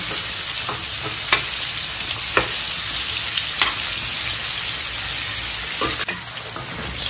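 Chicken pieces for a KFC-style recipe frying in hot oil, a dense steady sizzle throughout with scattered small pops and occasional clinks of stirring.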